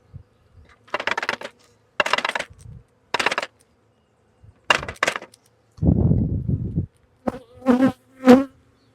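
Honey bees at an opened nuc colony give off short, loud buzzing bursts close by, one after another, broken up by a few light clinks and taps.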